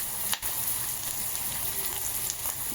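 Brinjal pieces sizzle in a hot pan with browned onion and curry leaves, a steady close hiss of frying with a brief louder crackle near the start, no talking.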